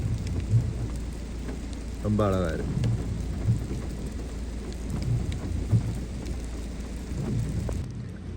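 Steady rain falling outdoors in a natural setting, a dense constant patter with a low rumble underneath, while someone briefly speaks over it.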